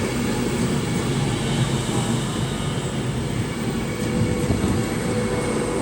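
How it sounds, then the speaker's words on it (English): A Class 390 electric train, unit 390-119, pulls out of Crewe station on a Glasgow Central to London Euston service. Its steady, loud rumble and rail roar hold throughout without pause. "I think that's 390-119 leaving with a service from Glasgow Central to London Euston"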